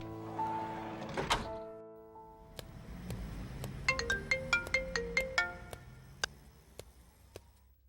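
A phone ringtone plays a bright, repeating electronic melody of quick chiming notes, preceded by a soft thunk, with no talking.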